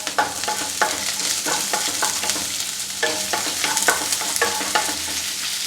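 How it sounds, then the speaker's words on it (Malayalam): Small shallots sizzle in oil with curry leaves for a chicken stew, stirred with quick repeated scraping strokes over a steady loud frying hiss, close up and without talking. "ഇനി നമുക്ക് ചെറിയ ഉള്ളി ആഡ് ചെയ്ത് കൊടുക്കാം കേട്ടോ"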